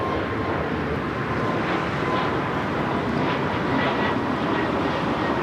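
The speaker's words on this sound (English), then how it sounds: "Breeze Airways 709 taking off to Pittsburgh on the A220-300" A Breeze Airways Airbus A220-300 takes off at Los Angeles International Airport, a steady broadband jet engine roar that holds loud and constant throughout, with wind noise mixed in.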